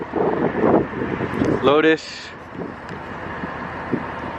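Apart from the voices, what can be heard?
wind blowing into the microphone outdoors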